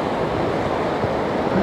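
Rough ocean surf breaking on an empty morning beach at Sunny Beach, Bulgaria, after overnight wind, a steady dense wash of waves roaring without pause, loud and close, with no voices.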